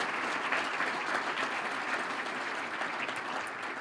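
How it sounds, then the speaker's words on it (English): An audience claps steadily for the mayor at a city State of the City address, a dense, even wash of applause filling the whole moment. "Let's give a round of applause again for our mayor and for the entire city"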